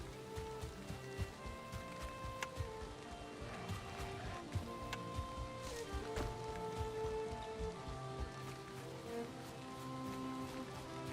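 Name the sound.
rain in a video game (Valheim)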